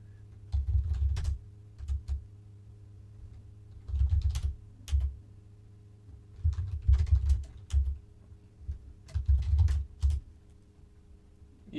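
Keys on a computer keyboard are tapped in uneven clusters, short bursts of clicky strokes separated by pauses, close and fairly quiet over a faint steady hum.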